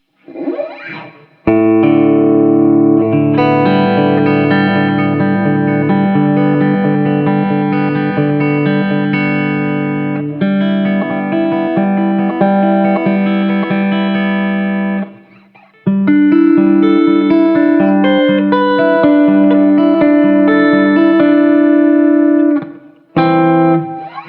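A distorted electric guitar plays sustained chords and riffs through Strymon OB.1 and Iridium pedals with a touch of room reverb, loud, with brief pauses between passages.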